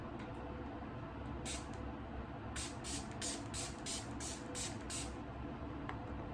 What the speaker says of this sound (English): I am going to spray it down with some setting spray just so it doesn't melt off of my face.